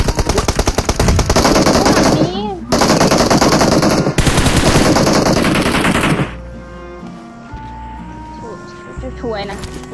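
Automatic gunfire in PUBG Mobile rattles out in loud, rapid bursts for about six seconds, broken by brief pauses. A quieter stretch follows with faint background game sounds and a short voice near the end.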